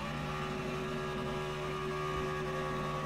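A race car engine in a racing video game at Chicagoland, a steady droning motor hum with a constant pitch, held for a few seconds with no talk.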